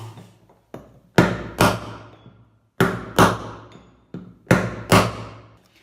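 Sledgehammer blows on a metal rod driving out the drum bearing of a Samsung WW60J3263 washing machine, sharp loud metallic strikes in pairs with short pauses between them, close and ringing briefly.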